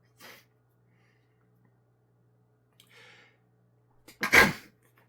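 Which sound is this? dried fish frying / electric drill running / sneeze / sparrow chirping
sneeze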